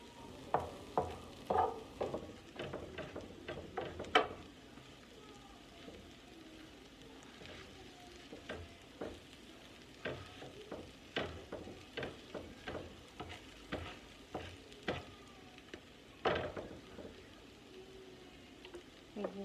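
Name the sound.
chopping and frying vegan chopped cheese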